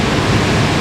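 Niagara Falls seen from the Canadian side roars as a loud, dense and unbroken rush of falling water, heard up close for a brief moment with no voices.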